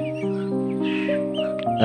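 A bird caws briefly near a house, the call close and clear over a sustained tonal background.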